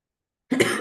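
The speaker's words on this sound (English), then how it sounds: "You've been coughing a lot." A single person coughing once, a short rough burst after a moment of silence, fairly close and fading quickly.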